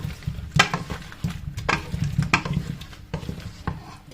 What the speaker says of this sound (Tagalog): Haluin lang natin ng konti.